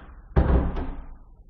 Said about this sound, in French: moi je referme la porte